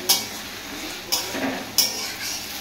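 Onions stir-fry in a pan for egg tadka, with three sharp clinks of a spatula against the pan spaced roughly a second apart over a steady soft sizzle.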